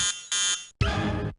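An alarm clock rings with harsh electronic buzzes, two short bursts, then a longer one after a brief gap, loud and close.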